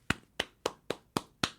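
Six separate, sharp claps in a small home studio, spaced evenly about a quarter second apart, each crisp and close with a short decay into quiet, no voices over them.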